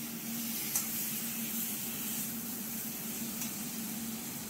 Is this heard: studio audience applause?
no